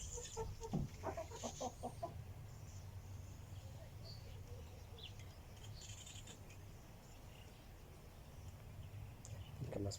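Chickens and a rooster cluck in a brief burst near the start of the clip, with scattered calls later, against a steady low outdoor rumble and faint background noise.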